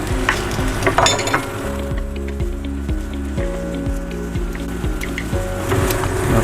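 Garlic and shallots sizzle steadily in a hot pan for Thai Wagyu beef stir-fried with black pepper, with a bright continuous crackle and occasional stirring scrapes of the spatula close by.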